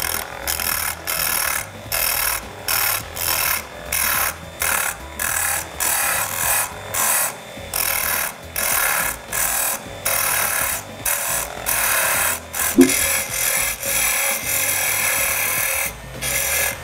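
Wooden jump rope handle cylinders being shaped by hand, giving a steady rhythmic rasping and filing scrape in repeated strokes with brief pauses between them, close and fairly loud, with no talking.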